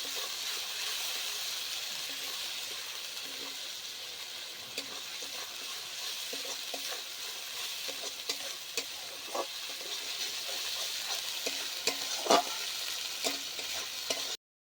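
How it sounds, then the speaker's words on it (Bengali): Coriander leaf paste and spices sautéing in a pan for a rui fish curry, a soft steady sizzle with occasional stirring scrapes and one sharper clink near the end, and no talk. "এবার ভালো মতন কষিয়ে নেবো এই মশলাগুলো"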